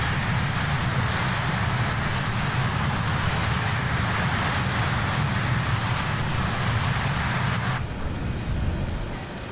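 Steady, loud roar of a BAE 146 jet's engines in Microsoft Flight Simulator 2020, a dense broadband drone with a faint high whine that holds constant before easing slightly near the end; no talk.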